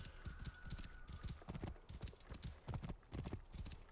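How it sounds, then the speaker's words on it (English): Horse hooves clip-clop in a fast, steady galloping rhythm in Assassin's Creed Origins, loud and close throughout with game ambience behind. "This horse is fast."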